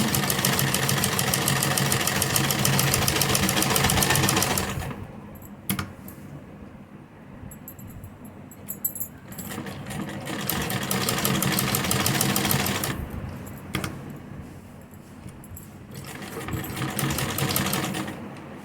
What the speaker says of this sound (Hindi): अब पहले हम इस तरह से किनारी पर एक टॉप स्टिच लगाएंगे आगे की तरफ।